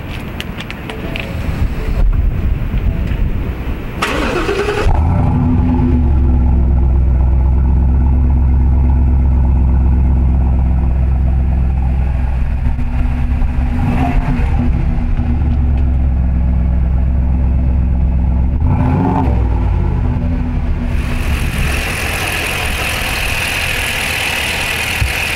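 A 2020 Ford F-350 Super Duty pickup truck engine cranks and catches, then idles with a deep, steady rumble for a long stretch, revving briefly twice, with wind noise on the microphone.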